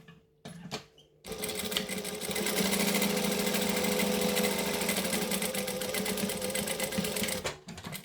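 Sewing machine top stitching the sides of a fabric bag, a steady loud whirring run of about six seconds after a few brief starts, then stopping.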